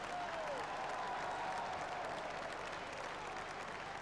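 A football crowd at Portman Road, Ipswich, applauds as substitute Gary Croft comes on, a steady, distant wash of clapping for four seconds with no talk.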